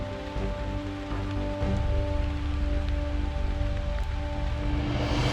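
Steady rain patters down by the Lech river, a continuous hiss of drops on surfaces mixed with a low, constant rumble of flowing water, with no voices.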